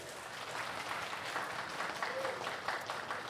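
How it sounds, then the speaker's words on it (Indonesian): Steady applause from the audience at an open regional election debate in Bangli, a dense even wash of clapping that continues without a break. "tepuk tangan untuk ketiga pasangan calon"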